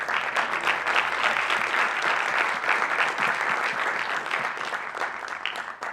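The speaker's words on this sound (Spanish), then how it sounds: "despidamos con un gran aplauso a todos los hombres de afuera" A crowd applauds steadily for six seconds at a casting-industry event, dense clapping filling the room at a strong, even level without pause.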